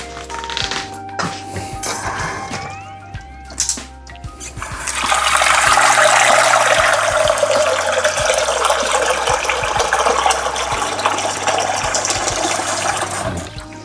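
Water poured from a tap into a pot of salted duck eggs, a steady loud rush of running liquid rising after a few seconds of clatter and handling, with no talking.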